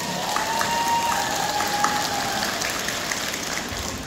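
An audience applauds at an elders' party at a community celebration, a steady, rain-like patter of many hands clapping at moderate volume, with a faint steady tone running through it.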